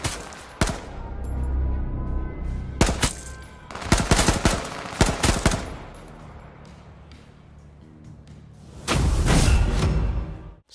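Rifle gunfire in the H1Z1 battle royale video game comes as several sharp bursts and single shots, loud and close, separated by quieter stretches of background game noise, with no talking.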